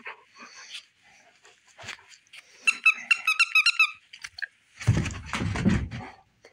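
Wolfy, a dog soaked from being left out in the rain, gives high squeaky whimpers in a quick burst, then pants and snuffles close by, with short quiet gaps between the sounds.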